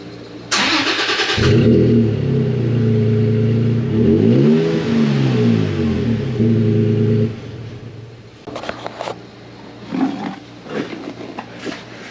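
A supercharged 2019 Toyota Tacoma engine with a new muffler turns over and revs hard for several seconds, pitch climbing and falling in a big swell, then cuts off, leaving a few faint clicks and knocks.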